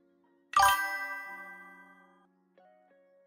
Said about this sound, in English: I think it's a text message.